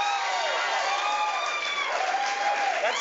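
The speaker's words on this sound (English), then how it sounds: "you notice how they clapped their hands? It was kind of just very not rhythmical" An audience claps its hands unevenly, without a steady rhythm, in a broad, continuous wash under a layer of tonal background sound.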